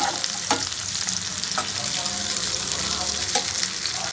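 Something frying in a pan, a dense, loud sizzle broken by a few sharp stirring scrapes, heard up close with no speech.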